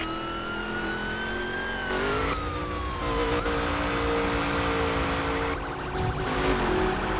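Racing car engine in The Crew video game chase, revving hard under a nitrous boost with a steady high whine that shifts pitch, over a continuous engine drone and a faint siren-like tone from pursuing police.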